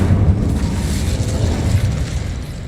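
Incendio fire spell cast in Hogwarts Legacy, a steady low whooshing roar of flame lasting a few seconds, loud and close with no voices over it.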